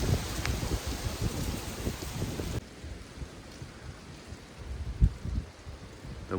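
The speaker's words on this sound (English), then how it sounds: "can you hear this wind?" Steady gusting wind rushes and rumbles against the microphone, loud at first then easing to a softer whoosh with a few bumps.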